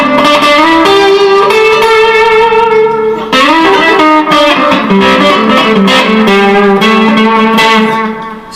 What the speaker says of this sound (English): Now I'm going to put on the distortion.